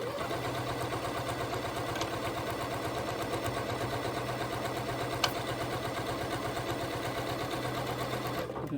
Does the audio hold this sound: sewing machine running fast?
yes